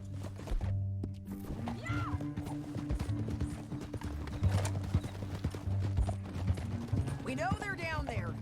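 Horse hooves clip-clop steadily on a trail in Red Dead Redemption 2, with a horse's whinny, other game sounds and a voice talking over the ride.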